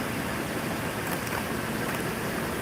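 A race car engine with full exhaust idles close by, heard as a dense, steady roar and rumble that holds constant from start to finish.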